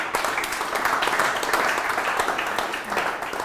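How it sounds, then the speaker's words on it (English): Loud, close applause from an audience at a startup networking event, dense continuous clapping that stays strong throughout the few seconds with a slight dip near the end. "One more round of applause."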